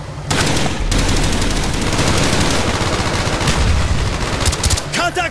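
Sustained automatic machine-gun fire from a tower position in Call of Duty: Black Ops, loud and continuous bursts amid a dense battlefield din, with shouted voices mixed in.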